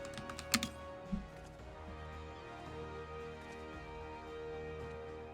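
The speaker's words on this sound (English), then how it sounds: "I love typing." Steady, fairly quiet computer keyboard typing, a soft run of key clicks with a couple of louder taps near the start, set against faint background hum, no talking.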